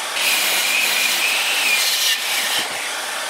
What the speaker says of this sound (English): Next, I grab my 2x6 and I'm going to make two cuts for each leg.